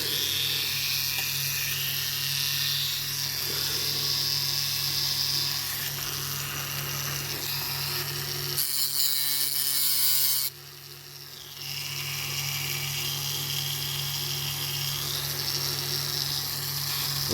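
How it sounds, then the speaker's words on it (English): A Dremel rotary tool fitted with a grinding bit works on a diecast Dinky toy, a high whining buzz that runs steadily, cuts out briefly for a couple of seconds, then starts up again at full pitch. "get me Dremel with a grinding thing on it"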